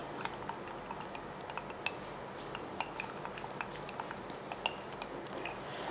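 A herbal remedy mixture with onion is stirred by hand: soft, faint, irregular clicks and taps of a spoon against the container, close and quiet throughout.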